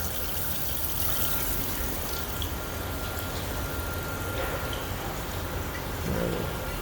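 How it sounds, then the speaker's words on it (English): Cold water runs steadily from a tap as metal parts, including a copper bar, are rinsed under it, a constant close splashing hiss with small clinks and no talk. "So just rinse that off in cold water."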